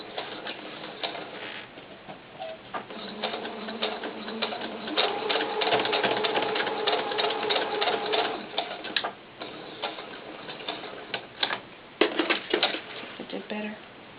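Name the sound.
sewing machine reinforcing a doll pants seam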